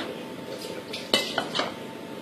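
A metal lid clanks down onto a pot of chicken couscous, with a sharp clink followed by a couple of lighter rattles as it settles, close and fairly loud over a quiet background.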